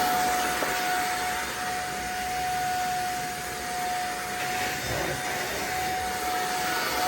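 A Klarpul 580W cordless stick vacuum runs steadily with a continuous airy whoosh and a high motor whine, with a slight dip and swell in suction partway through and no talking.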